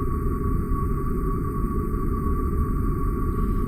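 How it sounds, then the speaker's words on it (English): Radio signals from the Orion Nebula, detected by the ALMA radio telescope and converted to sound, form a steady low rumbling hum with a constant thin tone above it, unchanging and droning throughout. "this is the sound of Orion's nebula as detected by the ALMA radio telescope"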